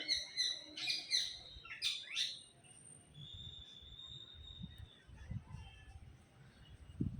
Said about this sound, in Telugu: చిలుకలు చూడండి